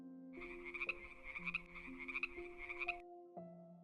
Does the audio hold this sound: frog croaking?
yes